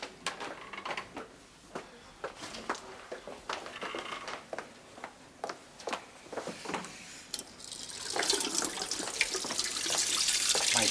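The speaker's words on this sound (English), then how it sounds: "I'm just running some cold water on my wrists." Cold water from a tap: clattering knocks and handling noises come first, then the water starts and runs in a steady, rising splash near the end, with no talking.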